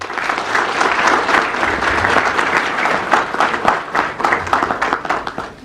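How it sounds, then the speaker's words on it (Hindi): A crowd applauds loudly at a Garhwal Hitaishini ceremony honoring students who scored over 90 percent in their 10th and 12th exams. Many hands clap in a dense, sustained burst that slowly thins toward the end, with a few voices underneath. "तो बच्चों ऐसे व्यक्तित्व के लिए आप जोरदार तालियां बजाएं।"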